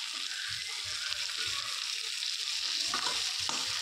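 Sliced onions fry in a pan with a constant close sizzle, while a spoon stirs them in regular low scraping strokes about every half second, growing a little busier toward the end; no one speaks.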